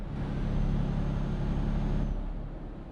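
A heavy truck in Euro Truck Simulator 2 driving through a tunnel, with a steady, loud, enclosed engine drone and rumble that holds for the whole stretch and eases slightly near the end.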